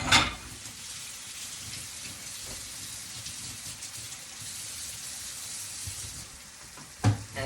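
Ground beef sizzles and fries in a pan with onions and garlic, a steady close hiss with a couple of brief clatters near the start and end.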